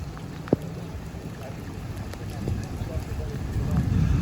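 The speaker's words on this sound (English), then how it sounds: "So I do think today this rain is in for the day itself." Steady rain pours down during a thunderstorm in Ca'n Pastilla, Mallorca, as a dense, even hiss with one sharp nearby tap early on and a slight swell toward the end.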